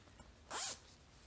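A zipper on a small sewn fabric pencil bag is pulled once in a quick, bright rasping stroke lasting about a quarter second, close and clear against a quiet room.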